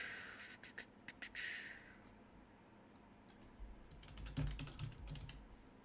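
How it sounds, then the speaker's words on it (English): Quick bursts of typing on a computer keyboard, with clusters of light close key clicks separated by short pauses and a soft background hiss, with no talking. "I typed in Scott"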